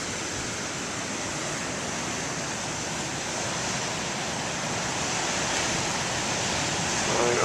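Big ocean waves breaking on a shore make a steady, loud broadband roar that swells slightly toward the end, with surf rushing continuously up close.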